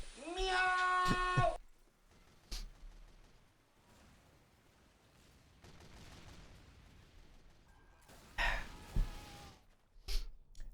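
A cat gives a loud drawn-out meow at the start and another later, separated by quieter stretches with a few sharp knocks and thumps.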